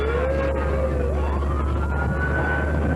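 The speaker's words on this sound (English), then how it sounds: "We just got word we're having an ambulance coming through here" An ambulance siren wails steadily with rising and falling tones as it moves through a St. Patrick's Day parade in New London, loud and near over the low rumble of vehicle engines.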